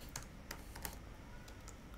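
Faint typing on a computer keyboard, a handful of sparse key clicks spread irregularly over two seconds against quiet background hiss.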